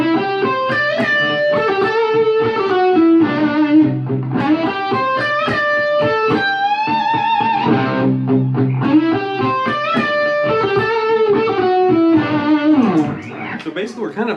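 A distorted electric guitar plays a melodic solo in the style of Gary Moore's Always Gonna Love You, run through an effects unit over a looped backing. Sustained, bending lead notes sing loudly and steadily, with no talking.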